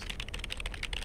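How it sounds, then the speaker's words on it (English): Fast, steady typing on a computer keyboard, a continuous run of close, crisp key clicks with no talk. "And the typing noise is back."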